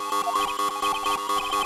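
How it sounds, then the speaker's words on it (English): Emergency buzzer in the Phoenix Wright Ace Attorney Trials and Tribulations video game sounds as a rapid, steady series of electronic beeps, evenly pulsing and loud, with no speech over it. "It's an emergency buzzer."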